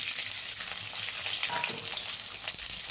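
Black cumin seeds sizzle in hot oil in a wok as a tempering for pumpkin flower paste, a steady dense crackling hiss that fills the clip at close range and holds level throughout.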